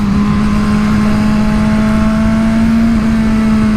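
A Suzuki Katana motorcycle engine holds a loud, steady, close drone with a strong even hum and no clear rise or fall in pitch over a few seconds.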